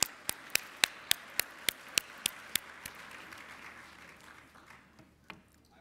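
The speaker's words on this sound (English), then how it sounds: "Let's give Vice Chair Barr and Politico's Victoria Guida another round of applause." Applause at the NCRC Just Economy Conference, with one set of hands clapping sharply and close in an even, quick rhythm over a softer crowd wash that gradually fades out.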